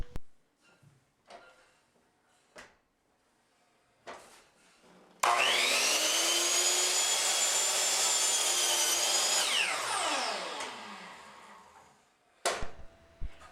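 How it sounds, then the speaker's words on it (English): Power miter saw cutting a baseboard at 23 degrees: motor spins up sharply, blade bites through the wood for about four seconds, then winds down, with quiet handling knocks before and after. "Place the top edge of the baseboard against the back edge of the saw and cut the left side of the piece at 23 degrees."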